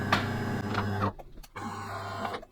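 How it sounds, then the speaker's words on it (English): Delonghi Magnifica S bean-to-cup coffee machine running its shutdown cycle, a steady mechanical hum with a low drone that cuts out briefly, then resumes with faint whirring, close and alone. "We're going to turn it off and let it do its turn off procedure."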